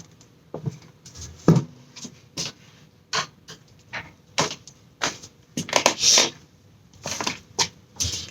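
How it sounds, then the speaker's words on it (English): Glass strand snipped in half for a grey-and-white striped table piece, giving a run of sharp, close clicks, cracks and snaps at an uneven rhythm, with quiet gaps and a denser cluster of breaks near the end. "Let me cut it in half."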